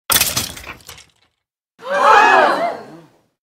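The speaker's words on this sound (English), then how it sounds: "you smashed my iPad" An iPad is smashed: a sharp crack and scatter of breaking bursts at the start that fade within a second, followed after a pause by a loud, wailing vocal cry.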